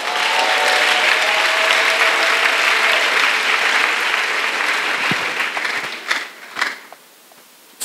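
An audience at a religious retreat breaks into loud, sustained applause and acclamation that fills most of the stretch, then thins out and fades near the end.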